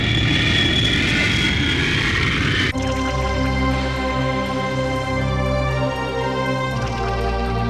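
An airplane lands on runway 27 with a broad engine roar that gives way abruptly to a steady, tonal whine and hum. The sound stays loud and continuous throughout, with no speech.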